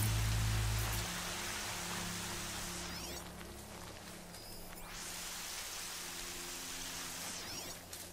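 Steady rain falls in the game Horizon Zero Dawn, a soft, even hiss of drops heard at a distance, with a low rumble that fades out in the first second and no speech.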